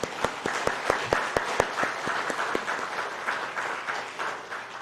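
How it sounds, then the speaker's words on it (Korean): A church congregation at a Sunday evening service claps together for a few seconds, sharp distinct hand claps near the start that soon blend into a steadier, softer patter of applause. "박수 한번 쳐요."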